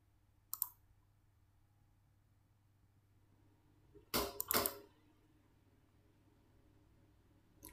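Computer mouse clicking at a desk, a few sharp isolated clicks with a quick double click in the middle and one more at the end, separated by near silence.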